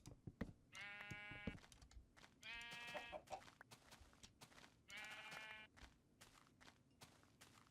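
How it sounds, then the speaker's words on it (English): Sheep in Minecraft give three separate bleats, each a short wavering buzzy call, spaced a couple of seconds apart among soft blocky footsteps and small clicks, fairly close and quiet. "So there's a lot of sheep around"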